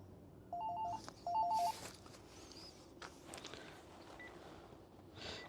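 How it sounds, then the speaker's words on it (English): A telephone rings twice in short, bright bursts, close and fairly loud, during a handover of a 2013 Lunar Ariva caravan at a caravan dealer. Quieter room noise follows. "Hopefully someone will get the phone"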